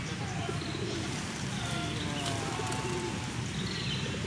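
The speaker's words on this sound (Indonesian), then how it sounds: "Kasih makan burung merpati." Pigeons coo softly and steadily while they are being fed in the town square of Alun-alun Bojonegoro, with chirps and a constant outdoor hum under them. A few faint sounds come from people nearby.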